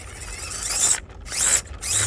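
Brushless RC crawler running a Furitek Python Pro ESC and Cedar motor, its high whine surging and cutting out in short bursts as the throttle is blipped, loud and close with no talk.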